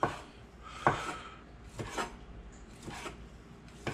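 Polish sausage being chopped with a knife on a board in a home kitchen, a handful of sharp, fairly faint knocks at irregular intervals with no talking.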